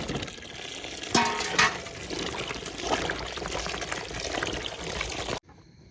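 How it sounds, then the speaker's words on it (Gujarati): Whole eggplants, stems trimmed, are washed in water, with splashing and trickling, a couple of sharper knocks early on, and the sound cutting off abruptly near the end. "હવે રીંગણા કપાઈ જશે ને હવે એને આપણે ધોઈ નાખી પાણીમાં"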